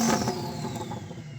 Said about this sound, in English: I'm going to rev up this Lambo.